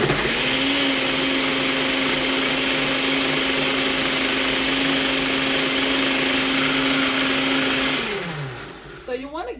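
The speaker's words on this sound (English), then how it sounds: "I'm gonna go ahead and get my chilies and all my seasonings blended in together." Countertop blender whirring steadily as it purees chilies and seasonings for birria consomé, a loud constant motor drone that winds down near the end, no talking.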